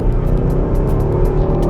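A 2016 Jeep Grand Cherokee Laredo pulls away hard from a stop, its engine giving a steady, loud low rumble that holds evenly without a clear rise or break.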